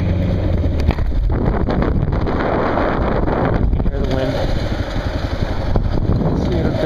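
Strong wind gusts buffeting the microphone while driving, a loud continuous roar with rumbling surges throughout, and faint engine and road noise beneath.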